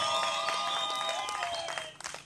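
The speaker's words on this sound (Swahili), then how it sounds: "Mpe Yesu makofi na vigelegele na shangwe." Congregation applause and cheering for Jesus at a Swahili church prayer service rise as a dense, bright wash of clapping and high ululating voices, tapering off toward the end.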